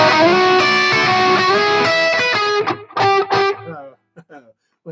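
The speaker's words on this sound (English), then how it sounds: "make them pop out with full distortion" A heavily distorted electric guitar plays a ringing arpeggio, thick and sustained, then breaks into a few choppy notes before trailing into near silence.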